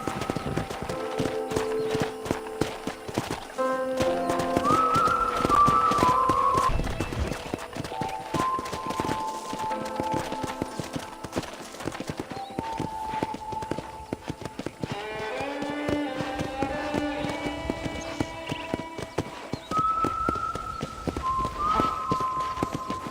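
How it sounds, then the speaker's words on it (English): Rhythmic hoofbeats clip-clop steadily throughout as a horse trots and gallops in the video game Red Dead Redemption, with tonal music and occasional chimes playing over them. "let's see if you can still ride a horse"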